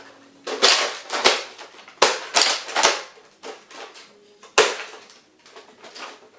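Nerf Retaliator Sonic Ice toy blaster firing foam darts, a series of sharp clacking shots and priming slides in an uneven rhythm, close and fairly loud with no talking.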